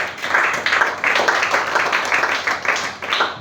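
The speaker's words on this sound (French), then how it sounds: "nous avons applaudissé quand même pour la sœur" A crowd claps in sustained applause for a nun at a French-speaking religious gathering, a dense, steady patter of many hands that swells and dips in waves for several seconds, with no talking over it.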